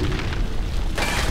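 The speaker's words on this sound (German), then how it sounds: "Wie sie explodieren." Explosions in the video game Clive Barker's Jericho: a continuous, dense booming blast with rumbling low end, swelling brighter near the end, loud and sustained without talk.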